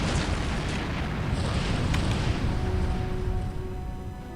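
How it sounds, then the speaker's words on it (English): Explosion in the Star Trek Voyager: Elite Force video game, a broad, steady rumbling roar that holds at a loud level for several seconds, then eases slightly near the end without any sharp blast. "That was a surprisingly anticlimactic explosion."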